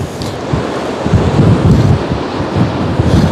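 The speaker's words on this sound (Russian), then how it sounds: "На новой набережной сегодня ветрено" Strong wind buffets the microphone at a new seaside embankment in Anapa, with a stormy sea's surf roaring beneath it as a loud, continuous, gusting rush with no voices.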